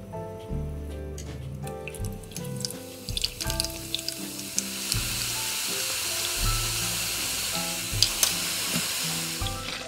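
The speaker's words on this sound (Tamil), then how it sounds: "அதே நாங்கள் வந்து இந்த பூந்தி உருண்டையை பொறிச்செடுப்போம்." Boondi balls for Sri Lankan mixture deep-fry in hot oil, giving a dense, steady sizzle and crackle with scattered bright pops over a low clatter of utensil knocks, close and continuous.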